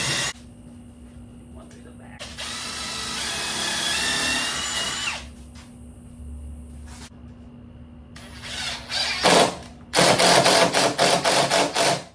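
A power drill drives screws into a wooden fish cleaning table on a dock, with several short whirring bursts of varying length and a louder run near the end, under occasional talk.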